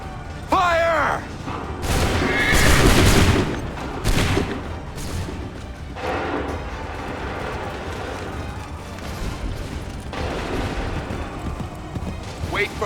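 In Assassin's Creed III, a line of muskets fires in booming, crackling volleys, loud and close, with battlefield rumble and voices shouting in between.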